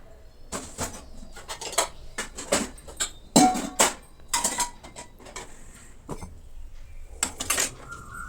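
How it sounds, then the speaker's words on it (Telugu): Dishes and utensils clatter and clink as they are set into a rack, with irregular bursts of clanking close by and brief pauses between. "ఇప్పుడు వీటిని వంటగదిలో తీసుకెళ్తున్నాను ఫస్ట్ అయితే గిన్నెల స్టాండ్ ఉంది కదండి అదన్నీ దాంట్లో పెట్టేసుకుంటున్నాను"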